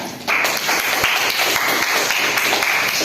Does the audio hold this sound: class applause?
yes